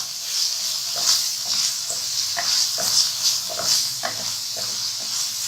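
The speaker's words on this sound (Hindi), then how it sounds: "अब हमने इसमें ये प्याज भी ऐड कर देंगे। प्याज को थोड़ा सा सौटे करना है।" Onions sautéing in a pan over moderate heat for peas keema, a steady soft sizzle and hiss with occasional light stirring scrapes, close and fairly quiet.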